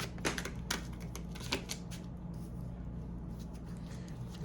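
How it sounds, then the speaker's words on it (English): Tarot cards being shuffled by hand during a Sagittarius reading, a soft rapid riffling and flicking with sharp clustered bursts early on, close and quiet over a steady low background hum. "Let's shuffle a little more."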